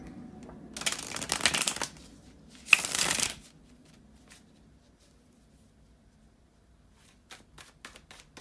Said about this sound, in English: bear with me just a second, guys, to shuffle the tarot cards